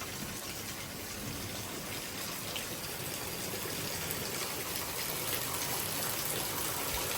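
Heavy rain pours down in a thunderstorm with gusty winds, a steady, dense broadband roar of water that holds at an even loudness throughout, with no talking.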